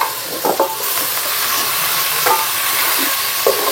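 Mint and tomatoes sautéing in a pan for chicken dum biryani, a loud steady hissing sizzle with occasional scraping stir strokes, close up and without speech.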